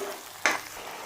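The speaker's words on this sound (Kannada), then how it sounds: "ಈಗ ಟೊಮೊಟೊನೂ ಅಷ್ಟೇ ಒಂದು ಸ್ವಲ್ಪ ಎಣ್ಣೆ ಬಿಡೋ ತನಕ ಈ ರೀತಿ ಚೆನ್ನಾಗಿ ಫ್ರೈ ಮಾಡ್ಕೊಳ್ಳಿ" Ground tomato paste frying in oil for a chicken liver and gizzard curry, a soft steady sizzle with one brief louder scrape of a spatula.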